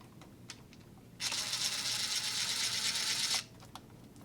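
A T15 Torx bit removes a light screw from a DeWalt DWS779 miter saw. A quick, close, buzzing ratchet whir lasts about two seconds, with light clicks before and after.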